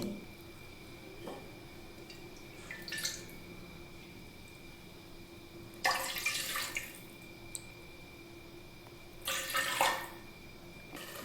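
Water pours into a pot for rice pudding in a few separate bursts, each splashing briefly and loudly before quiet kitchen background returns.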